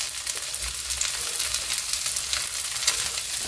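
Cheese-filled tortillas fry and brown in a hot pan, giving a steady, close crackling sizzle throughout with no talking.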